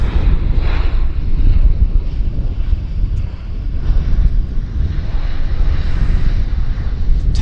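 A regional jet taxis at Vancouver's YVR airport, heard as a loud, continuous low engine roar mixed with wind buffeting on the microphone, steady throughout.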